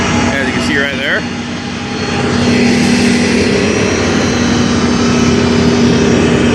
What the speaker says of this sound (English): They're taxiing out already.